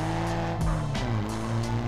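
A brand-new Honda Twister 300F motorcycle revs up, its engine note rising and shifting through a couple of throttle pushes, loud and close with no talking.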